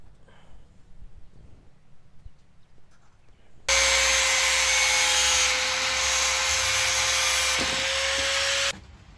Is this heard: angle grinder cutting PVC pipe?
yes